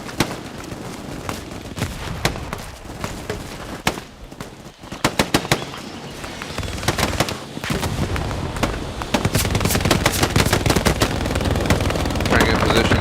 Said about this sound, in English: I'm moving up to the front lines with a machine gun